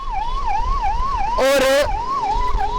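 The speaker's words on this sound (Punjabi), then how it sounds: "ਇੱਥੇ ਤੁਸੀਂ ਦੇਖ ਸਕਦੇ ਹੋ ਪਿੱਛੇ ਐਂਬੂਲੈਂਸ ਆ ਰਹੀ ਹੈ" An ambulance siren wails in a steady rising-and-falling pattern through heavy city traffic in Ludhiana. A brief burst of a louder, denser horn-like tone cuts in midway, and a voice speaks briefly.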